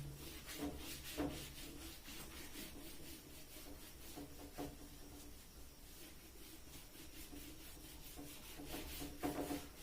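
A hand rubs writing off a board in a math class, giving a soft, continuous scrubbing with repeated strokes, fairly faint and alone.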